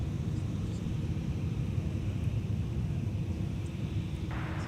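Low, steady rumble of a Sun Country Airlines Boeing 737-800 at MSP airport, heard from a distance as a constant airy drone with no distinct peaks.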